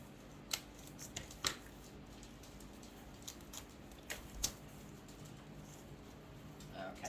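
Scissors cut through burlap in a series of sharp, faint snips spaced irregularly over a quiet background, with a little soft handling noise between cuts.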